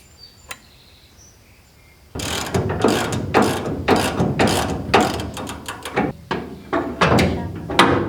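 Ratchet wrench tightening a Bilstein coilover bolt on a 1970 car, a quiet pause followed by loud, close bursts of rapid pawl clicking in repeated strokes, with no voices.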